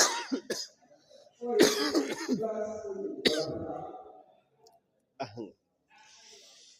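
Several harsh coughs and throat-clearing bursts come in clusters, close to the microphone, separated by brief pauses and a short rasping stretch.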